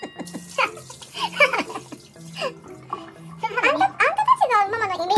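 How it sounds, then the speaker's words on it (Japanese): Rice is washed in water for octopus rice, with sloshing and swishing going on under lively chatter from an adult and children close by. "まずね、お米を洗います。"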